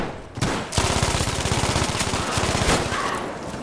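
Sustained automatic gunfire from a Battlefield 5 weapon, a rapid, evenly spaced stream of loud close shots running for several seconds after a brief pause, with a few heavier cracks standing out.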